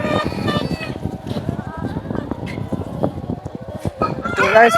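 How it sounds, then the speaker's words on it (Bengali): Ten thousand chickens in a large poultry farm shed: a dense, continuous bed of clucking and squawking fills the space, with a rooster crowing now and then and brief voices mixed in. "এইগুলো হচ্ছে মুরগি তো অনেকগুলো মুরগি রয়েছে এখানে দশ হাজার মুরগি রয়েছে"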